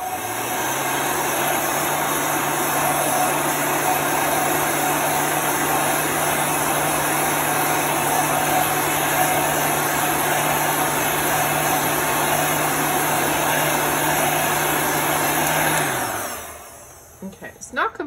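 A heat tool runs steadily as it dries paint on a craft project, a constant whirring blower hum for about sixteen seconds that cuts off near the end.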